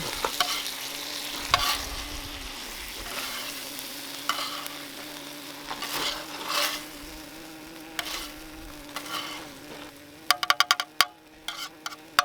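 Quiet sizzling and scraping of rice cooking on a hot camp griddle (Tembo Tusk Skottle), with stirring clatter and a burst of sharp taps near the end.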